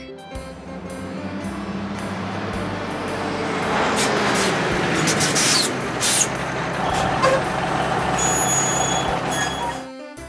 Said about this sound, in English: Tanker truck.